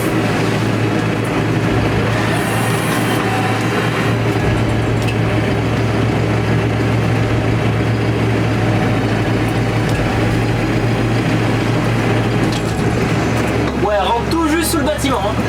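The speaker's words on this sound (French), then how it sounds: "Mon père il rentre le tracteur aussi." A farm tractor rumbles steadily at low revs as it drives into a building after the wheat harvest, a constant engine drone filling the whole stretch with clanks near the end.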